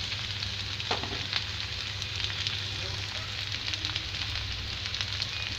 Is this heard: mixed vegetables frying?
yes